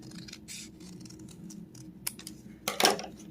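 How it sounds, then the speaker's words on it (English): Scissors snipping through paper to cut out a heart shape, a few quiet close cuts, with a sharper, louder snip near the end. "And then we're going to cut that out."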